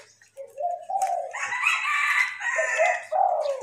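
Large-voiced Thai decoy dove calling in the morning, a series of close, loud cooing and crowing phrases that run almost continuously with short breaks.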